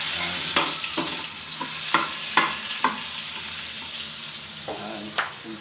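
Garlic sizzling in a hot pan, a steady frying hiss broken by several sharp scraping stir strokes from a spatula, close and moderately loud with no voices.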